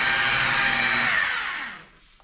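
A polishing buffer whirs steadily against freshly painted bodywork on a 1998 Jeep TJ, a dense broadband motor hum that holds loud for over a second before tapering off as the tool winds down, with no talking.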